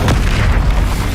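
Incendio fire spell in Hogwarts Legacy bursts with a sharp crack at the start, then a loud, rumbling roar of flame with deep booming weight that carries on steadily.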